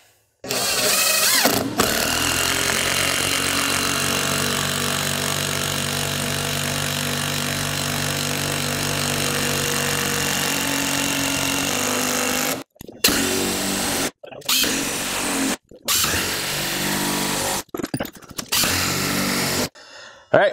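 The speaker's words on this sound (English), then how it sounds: "we went ahead and installed our ledger locks here, every 18 inches in our W pattern" A power driver sinks ledger lock screws into a deck ledger board, with one long, steady high-pitched whir followed by several shorter bursts separated by brief pauses, loud and close.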